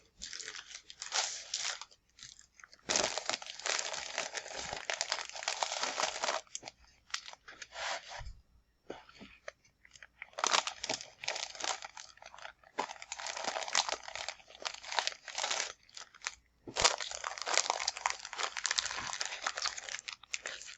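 Scrap bits of mulberry paper from a collage pack are handled close up, giving soft crinkling and rustling in bursts separated by brief quiet pauses, with no talking.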